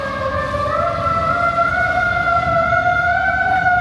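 A fire truck siren wails in the city, a loud, sustained rising tone with harmonics over steady traffic rumble, close and continuous without talk.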